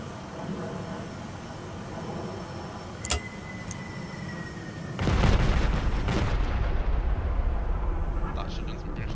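Bombing explosions in the game Space Engineers, with an aircraft-boat craft: a sharp crack or two, then a sudden loud sustained rumbling blast that rolls on and fades, all under steady game noise.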